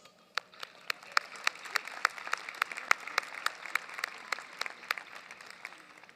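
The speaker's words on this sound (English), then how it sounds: "Please join me in a round of applause for the Spelman College Board of Trustees." At a 2021 Spelman College commencement, a crowd gives a round of applause for the Board of Trustees. Scattered, distinct hand claps ring out at a moderate distance in a fairly sparse, continuous patter over about six seconds.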